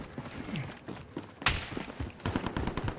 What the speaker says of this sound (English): I'm hearing gunshots from the prison